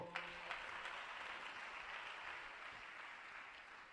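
An audience at a Christian ministry gathering clapping hands together, a soft, steady patter of applause that holds evenly for several seconds, heard faintly and from some distance.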